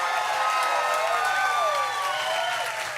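A church congregation claps and cheers for the moms, a steady wash of applause and whoops filling the room with sustained, even loudness and no clear speech.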